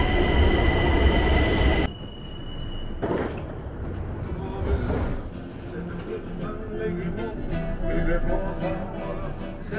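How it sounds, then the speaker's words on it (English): A Tehran metro train pulls into the station with a loud rumble that gives way to a clattering, hissing roll of cars, with faint squeals over a steady din. "As you can see, the train is coming, so now we are going inside the train"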